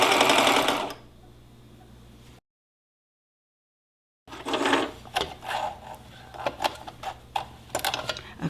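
A sewing machine sews a pillowcase: a loud whir at the start, a long silent gap, then a renewed run of close mechanical whirring punctuated by clicks and ticks.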